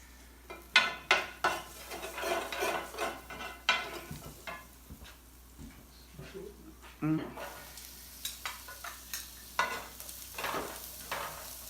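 Garlic sizzles and fries in a pan, with irregular scraping and stirring clatter from a utensil against the pan over steady crackling, while occasional faint voices murmur in the background.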